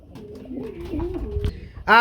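Close, soft cooing of a grizzle pigeon with warbling low notes, followed at the end by a sudden louder call.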